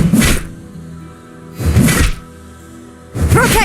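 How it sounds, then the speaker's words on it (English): Stone altar cracking under siege attack in the dungeon game Dungeons 2, heard as three heavy thudding crack bursts spaced roughly a second and a half apart, each loud and short with quieter game ambience between. "The first cracks appeared in the altar."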